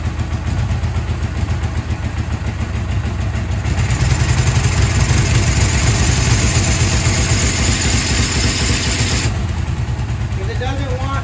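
A 1978 Suzuki GS750 motorcycle engine, running with no battery fitted, idles in a steady, close, low rumble that rises briefly in the middle before settling back.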